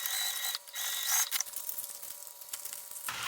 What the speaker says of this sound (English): Now I sew again with the same seam allowance.